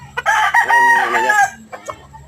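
A rooster crows loudly and close by in a backyard chicken yard, one long drawn-out call followed by a few short clucks from the flock.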